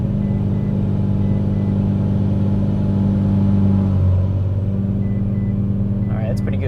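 Mitsubishi Lancer Evolution 8 engine pulling under turbo boost during live ECU tuning, a steady loud engine drone that drops in tone near the end as the throttle eases, with a brief sharper noise at the close.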